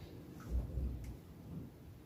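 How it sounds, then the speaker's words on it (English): Rain falls outside on a winter day, a soft, steady hiss with faint low rumbles, quiet and distant, with no voices. "it's raining outside today"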